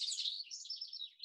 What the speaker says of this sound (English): This is a house wren, and this is a bird that may sort of lack in the visual appearance category.